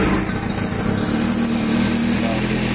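A 2001 Yamaha R1 motorcycle engine running at a close, loud, steady idle on a cold day with the choke partly pulled, a continuous low rumble throughout.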